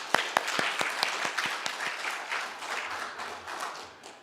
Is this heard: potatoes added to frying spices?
no